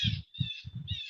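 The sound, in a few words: bird calling outdoors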